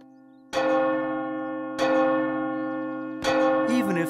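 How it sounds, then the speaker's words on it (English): A cartoon firehouse bell clangs three times across the countryside, each loud ringing strike decaying slowly before the next, with a brief voice-like squeak after the last. "When the firehouse bell rang across the countryside, the volunteer firefighters responded."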